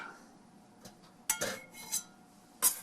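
A utensil stirs a mixture in a container with light clinks and scrapes against the side, a few scattered taps close by and faint in a quiet kitchen.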